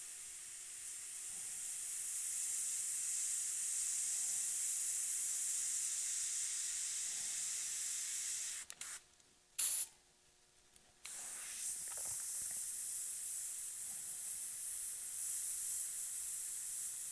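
An airbrush spraying black paint onto a skull texture gives a steady, close hiss that runs unbroken, cuts out briefly with a couple of short bursts partway through, then resumes at the same level.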